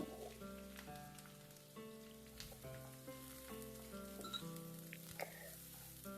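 Mutton pieces fry with cardamom in a pan to cook off their water for a curry, making a faint, steady sizzle under a sustained tonal background hum, quiet and without speech.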